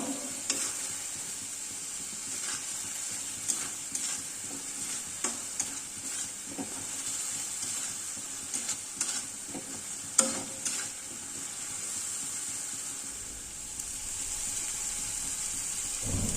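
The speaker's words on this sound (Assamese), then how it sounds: "তাক আমি জুইটো বঢ়াই পেলাই কিছু সময় ভাজি ল'ম" A thick paste of masala, coriander, tomato and green chili sizzles steadily in a pan for egg masala, with the scrape and clink of stirring now and then.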